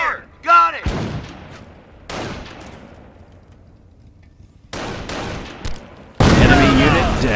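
Sniper and gunfire in Company of Heroes, with sharp, separate shots ringing out loud and close among bursts of battle noise and spoken voices.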